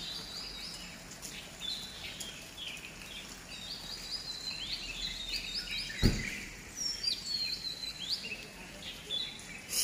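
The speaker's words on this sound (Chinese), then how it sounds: "小鸟叫更欢了" Small birds chirping outdoors in spring after rain, with quick high tweets and trills scattered through a soft, steady background hush, plus one brief thump partway through.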